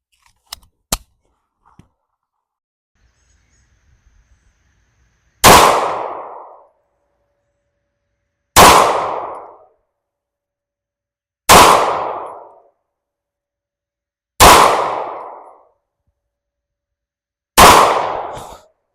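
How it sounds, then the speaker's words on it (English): A KDS-9C pistol fired outdoors: after a couple of faint clicks, five loud, sharp single shots ring out about three seconds apart, each with a short decaying echo, with no talking. "We're going to shoot it."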